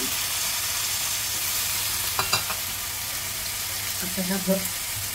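Vegetables for bhogi bhaji, including brinjal, sizzle steadily in hot oil, a continuous close hiss with a few soft stirring knocks partway through.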